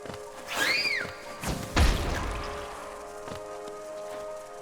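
An explosive goes off in the Hollow Knight video game as a dull, heavy thump with a rumbling tail, preceded by a short rising chirp over soft ambient game sound.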